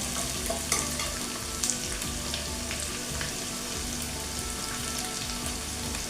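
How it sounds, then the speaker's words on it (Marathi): Onions sizzle steadily in a hot pan as the base for a jackfruit curry, a dense close frying hiss with a few soft stirring clicks and no talk. "कांदे आणि लसूणच त्यामुळे आपण कांद्याचा वापर जास्त करणार आहोत कांदे घालून घ्या"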